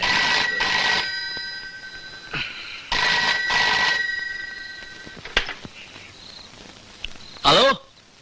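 A telephone rings in repeated bursts of two trilling pulses with short pauses between, loud and close, in a Malayalam comedy scene, with a few small clicks and a brief noise near the end.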